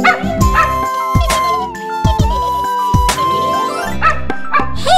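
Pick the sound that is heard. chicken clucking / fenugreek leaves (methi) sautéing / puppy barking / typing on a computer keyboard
puppy barking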